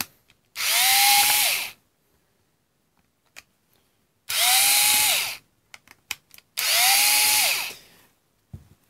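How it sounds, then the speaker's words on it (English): An early-2000s powered screwdriver backs screws out of a damaged Milwaukee M12 6.0 battery pack, three separate loud whirring bursts of about a second each, with small clicks and handling noises in the pauses between them. "Powered screwdrivers are great."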